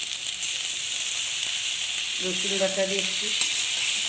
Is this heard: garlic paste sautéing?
yes